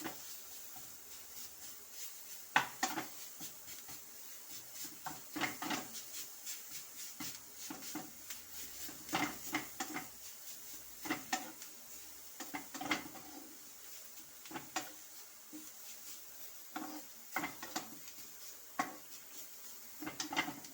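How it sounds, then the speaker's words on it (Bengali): Mashed jackfruit is worked together with carrot in a bowl, with soft, irregular knocks and scrapes of a utensil against the bowl, faint and close, with no talking. "দিয়ে ভালোভাবে এঁচড়টাকে গাজরের সাথে ভালোভাবে মিশিয়ে নিতে হবে।"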